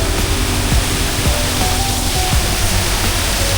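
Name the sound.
artificial waterfall rushing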